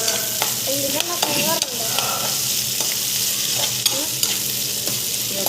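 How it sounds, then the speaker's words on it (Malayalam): A prawn chutney mix fries in coconut oil while a spoon stirs it, loud close sizzling with frequent scraping strokes and clinks against the pan, continuous and without speech. "എന്നിട്ട് നന്നായി എന്നിട്ട് നന്നായി ഇളക്കി കൊടുക്കാം"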